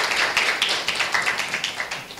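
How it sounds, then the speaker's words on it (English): Dense, steady clapping from an audience at a Plan International event for the International Day of the Girl Child in Tanzania, a fairly loud and continuous patter of many hands lasting throughout with no voices over it. "Yes, a round of applause, please. A bigger one."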